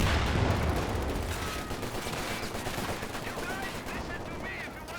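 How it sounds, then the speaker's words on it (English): Machine gun fire in the strategy game Company of Heroes 2 plays as a dense, continuous rattle of rapid shots under other battlefield noise, fairly loud and sustained throughout. "Machine gun."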